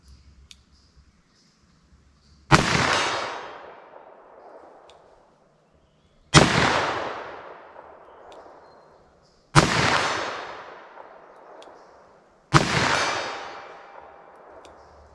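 Four loud, sharp .357 Magnum revolver shots fired at a target 75 yards away outdoors, evenly spaced a few seconds apart, each with a sudden crack and a long decaying echo tail.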